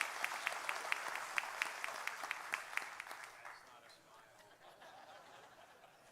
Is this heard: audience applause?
yes